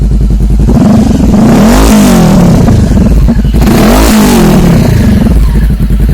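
Honda CBR500R motorcycle fitted with an SC Project exhaust, revved loudly at close range in two rising and falling throttle blips over a rough, steady idle.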